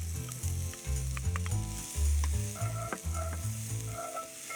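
Chopped shallots and sliced leeks sauté in melted butter in a cast iron soup pot, a close, continuous sizzle with occasional stirring and low, bubbling pops.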